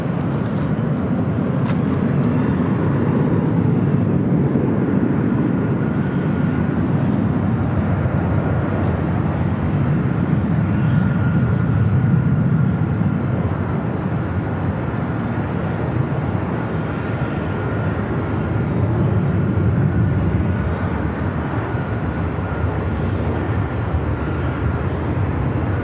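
An airliner on its takeoff roll from runway 24 Left at Los Angeles International Airport gives off a broad, sustained jet roar that swells and holds steadily at a distance.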